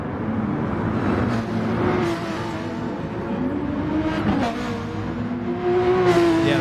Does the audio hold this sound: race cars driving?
yes